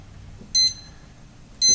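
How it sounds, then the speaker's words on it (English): Two short, high electronic beeps about a second apart, sharp and clear over a quiet background rumble. "Set the timer here."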